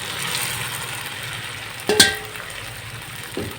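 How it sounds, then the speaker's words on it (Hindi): Boiled black-eyed peas tipped into frying masala and stirred, a soft steady sizzle with a sharp clatter of the spoon against the pan midway and a lighter knock near the end. "अब नाज़रीन हम इसमें डालेंगे जो लोबिया हमने बॉयल किया हुआ था"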